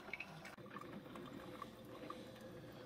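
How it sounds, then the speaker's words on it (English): A Hamilton Beach FlexBrew Trio coffee maker heats water with a steady, low bubbling and hissing that fills the whole stretch at moderate volume, with no talking. "This has kind of your standard sound of heating the water."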